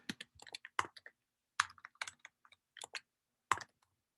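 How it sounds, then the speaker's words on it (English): Hard, aggressive typing on a computer keyboard, sharp close clicks in quick uneven bursts separated by short pauses, with no talking. "I'm like a really aggressive typer and you can hear that"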